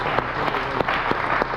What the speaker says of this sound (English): Everybody give Matt a huge round of applause.